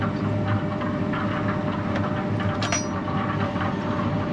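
A Holmer Terra Felis 2 sugar beet harvester engine drones steadily at a low, even pitch during the beet harvest, a constant mechanical hum with faint clatter and no talking.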